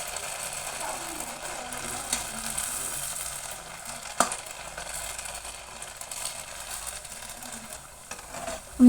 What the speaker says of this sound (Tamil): இது நல்லா ப்ரௌன் கலரில் வர்ற அளவு நம்ம பொரிச்சு எடுத்துக்கலாம்